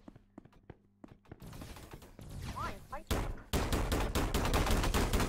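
Gunfire in a Roblox team shooter builds from sparse single shots to dense rapid bursts, loud and close, with players talking over it.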